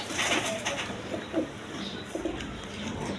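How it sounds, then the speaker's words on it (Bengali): A black male pigeon coos in a pigeon farm, soft low throaty coos repeating over a steady background hum, close by and with no talk. "ব্ল্যাক কালারের মধ্যে নর কবুতর"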